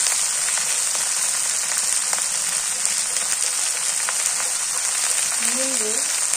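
Okra sizzling in a frying pan, a steady bright hiss of oil that runs unbroken throughout, with a short pitched sound rising briefly near the end.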